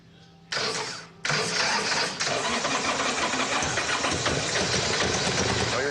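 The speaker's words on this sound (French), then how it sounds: "Je mets les gaz, vous êtes prêts?" A custom Orange County Choppers motorcycle engine cranks, stutters, then catches and roars into a loud, steady rumbling idle with rising revs, close and dominating.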